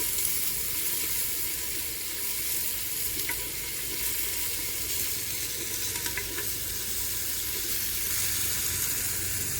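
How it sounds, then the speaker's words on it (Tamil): Onions sizzle steadily in a pan as the base for a chicken curry, a loud, continuous frying hiss with faint stirring touches and no talk. "வெங்காயம் வெட்டிட்டு நல்லா கலரி விட்டுக்கலாம்."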